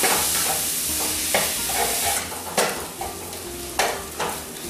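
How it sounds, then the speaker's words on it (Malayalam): Chicken with crushed green peppercorns is stirred in a sizzling pan; a steady frying hiss runs throughout, broken by several sharp scraping strokes of the spoon, close and fairly loud, with no talking. "ചതച്ച് വെച്ചിരിക്കുന്ന പച്ചക്കുരുമുളക് ചേർത്ത് കൊടുക്കാം ഇതും നല്ലപോലെ ഒന്ന് മിക്സ് ചെയ്യാം"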